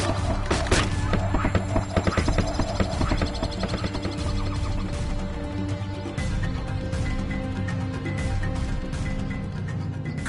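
Horse hooves clop steadily inside the Kingdom Hearts video game, a rhythmic run of hoofbeats layered over dense, loud game music with a whinny-like cry near the start.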